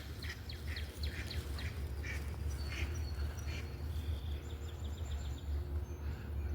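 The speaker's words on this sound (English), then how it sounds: "And there goes the mallards." Mallard ducks on a farm give a few quacks and calls over steady outdoor background noise, moderately distant and fairly faint, with no talking.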